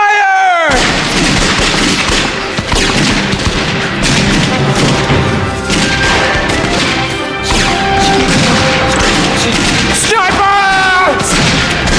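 A loud battlefield volley of musket and rifle fire with booming blasts, crashes and continuous roaring gunfire filling the whole stretch, and voices shouting beneath the din in a staged battle from Les Misérables.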